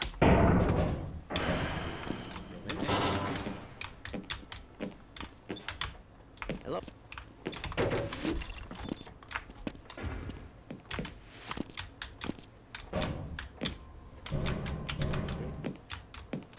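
Soft, muffled keystrokes from a Logitech membrane keyboard, typed in quick irregular runs at close range with short gaps.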